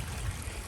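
A flowing creek feeding a small gold panning sluice at a Glendon campsite, making a steady, close water rush with low gurgling, no voices.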